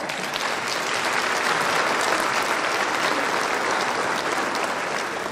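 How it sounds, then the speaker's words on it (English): Audience at a university summer graduation ceremony on a campus in Gqeberha applauding, a dense, steady wash of many hands clapping at once that holds evenly throughout, with no voices standing out. "I think we should give them an applause as well"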